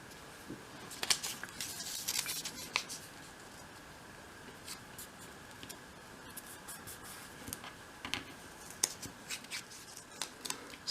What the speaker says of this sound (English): I've cut out the next sort of medium and small ones